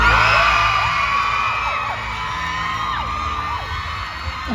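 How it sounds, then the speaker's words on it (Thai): A large crowd of fans at a stage event at Siam with Boom Phoom and the Across The Sky cast screams and shrieks nonstop, many high voices overlapping in a loud, continuous roar. "เสียงกรี๊ดเสียงกรี๊ดกันขนาดนี้ เชื่อว่าทุกคนพร้อมแล้วแน่"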